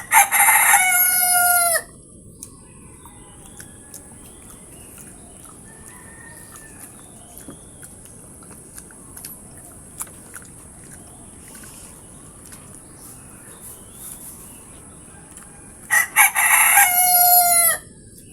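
Native chickens in a rural yard, with a rooster crowing loudly and close at the start and again near the end, and faint scattered clucks and calls in the quiet stretch between.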